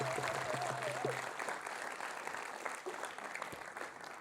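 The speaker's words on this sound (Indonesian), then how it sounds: "Kita beri tepuk tangan untuk Miss Indonesia." A studio audience at a television talk show applauds for Miss Indonesia with a steady wash of many hands clapping, fairly soft and distant, while a voice briefly sounds at the start.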